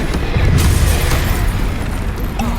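Bombarda explosion spells going off in Hogwarts Legacy, a loud, dense series of booming blasts and rumbling bursts at close range that fill the whole moment without pause.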